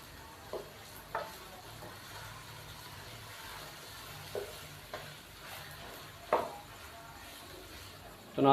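Chicken and tomatoes for a degi-style chicken aloo gosht frying quietly in a pot, a low steady sizzle broken by several sharp scrapes and knocks of a stirring spoon.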